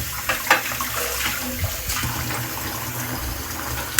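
Running tap water splashing over washed dishes in a kitchen sink, a steady close hiss with a few clinks and knocks, no talk.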